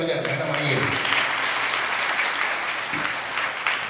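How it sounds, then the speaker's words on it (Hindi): Church congregation applauding for the pastor, a dense wash of clapping from many hands that continues steadily throughout, with some background voices mixed in. "पास्टर साहब के लिए ताली बजाएं"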